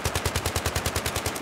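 Rapid automatic fire from a weapon in a first-person shooter game, about fourteen evenly spaced shots in a fast steady rhythm, loud and close with no voices.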